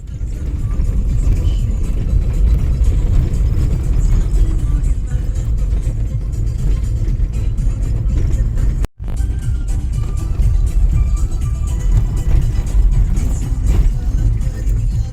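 A car drives on a rough road toward Aldan in Yakutia, a steady loud engine and tire rumble from inside the vehicle, continuous throughout with a brief cut near the middle.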